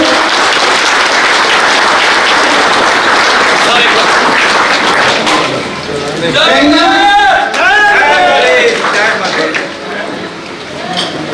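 Crowd applause at a political party joining event in Nepal, a broad sustained clapping from a large gathering that runs throughout, with cheers and voices rising over it midway.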